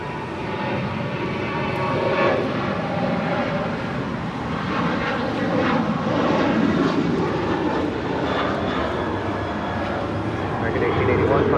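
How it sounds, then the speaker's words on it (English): An American Airlines Boeing 737-800 rolls down runway 25 right at Los Angeles International for its takeoff to Puerto Vallarta. The engine roar is loud and close and builds in waves, with voices speaking over it. "American Airlines flight 1881 heading to Puerto Vallarta. 737-800 now rolling down 25 right."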